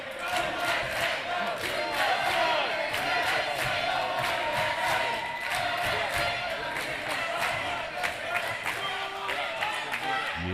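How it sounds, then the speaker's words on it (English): Crowd at a foosball World Cup men's doubles final, USA against Great Britain, cheers and shouts steadily for both teams, with sharp claps and bangs from the table ringing through the noise. "You hear both sides cheering on their teams."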